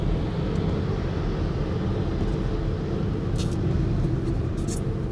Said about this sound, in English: I press maximum and then it suddenly starts to accelerate.